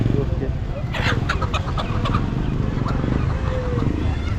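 Native chickens cluck and a rooster calls amid a busy, noisy crowd at the large goat and sheep market in Chakan, Maharashtra, with people talking and background bustle throughout.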